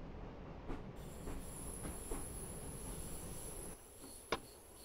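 Train running in Train Simulator 2018 on the Innsbruck to Munich route: a steady rolling rumble with a high wheel squeal, faint rhythmic clicks and a sharp clack near the end, with no talking.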